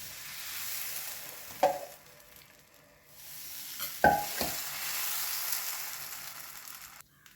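A high-protein dosa fries on a hot pan with a continuous, fairly quiet sizzle, broken by a few sharp spatula scrapes and taps close by.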